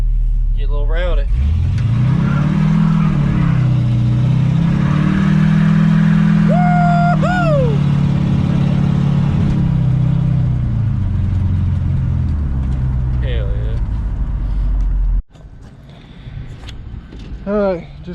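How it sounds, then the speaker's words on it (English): A Chevrolet C10 truck engine revs hard and holds a loud, rising roar during a burnout up a hill, then cuts off abruptly, with a voice briefly over the noise. "I'll do a pretty good burnout coming up this hill."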